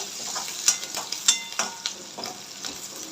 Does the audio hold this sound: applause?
no